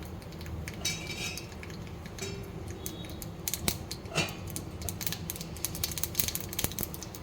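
Mustard seeds splutter and pop in hot oil in a small ladle for tempering, giving faint, irregular crackles and sharp snaps over a low sizzle, close by.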